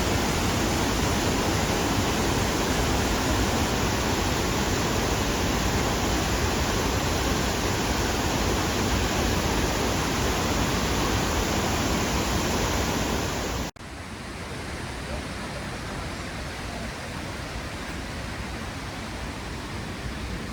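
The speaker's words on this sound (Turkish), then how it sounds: "her geldiğimde mutlaka şelaleyi ziyaret ediyorum" A waterfall in Tarsus roars as a loud, dense, steady rush of falling water. Partway through the sound drops abruptly to a quieter, duller rush, as if heard from a different spot.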